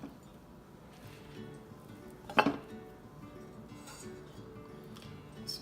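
Baby back ribs going into a crock pot, quiet kitchen handling with one clear ceramic clink of the pot near the middle and small scrapes around it, no talk.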